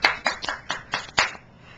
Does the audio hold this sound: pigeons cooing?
no